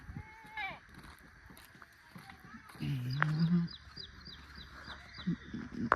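Chickens cluck and chirp around a farmyard, with a rooster's call rising briefly in the middle amid scattered bird chirps.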